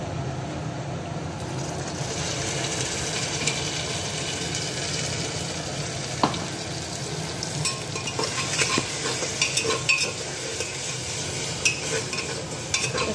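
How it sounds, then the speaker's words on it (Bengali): Mutton spice paste with whole garlic cloves fries in a pan with a continuous loud sizzle, while a spoon stirs and scrapes with irregular clinks throughout. "আর এই মশলাটা এখন দিয়ে দেব, মাটনের জন্য এই মশলা করা হয়েছে। তো এখন ঢেলে দিচ্ছি।"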